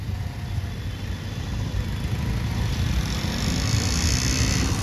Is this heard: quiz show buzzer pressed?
no